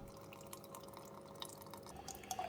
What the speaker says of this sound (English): Okay, so now it's running the fresh water through the machine.